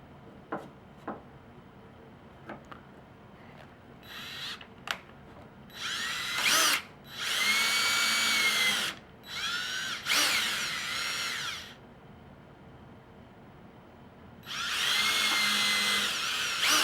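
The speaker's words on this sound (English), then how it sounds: "drill the holes as far down as the drill will go, then move it and finish them off" A power drill bores holes through PVC pipe for a homemade boot dryer, in several loud, close bursts of whirring separated by short pauses, with a few light knocks beforehand and no talking.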